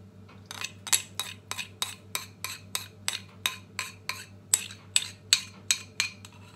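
Batter and melted butter are mixed in a bowl with a utensil, giving about twenty regular, close clinks and scrapes at a brisk, even stirring rhythm.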